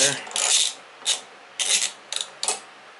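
Ratcheting clicks and metallic rubbing from a 13/16 socket wrench working an RJ19LM spark plug loose on a Briggs and Stratton mower engine, in several short separate bursts, close and fairly quiet.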